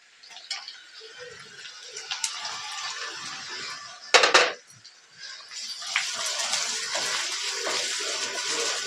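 Chopped onion frying in a pan, a soft hissing sizzle with scattered clinks, one sharp loud clatter of utensil on metal partway, then the sizzle swells and carries on steadily.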